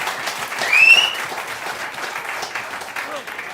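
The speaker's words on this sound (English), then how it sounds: "Round of applause, please." Audience applause at a question-and-answer event with members of a band, a dense, steady patter of clapping with a short whistle early on, settling to a softer level.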